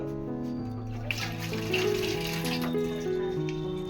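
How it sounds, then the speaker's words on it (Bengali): Running tap water while face and hands are washed: a steady, close gush of water with splashing changes as hands move through the stream, continuous for several seconds, with a faint voice in the background. "চলো মুখ হাত ধুয়ে নিই"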